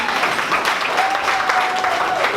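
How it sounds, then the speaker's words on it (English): A standing audience at a startup pitch event gives loud, sustained applause, a dense wash of clapping with faint crowd noise beneath. "Can everybody please stand up and give HealthNextGen a big round of applause."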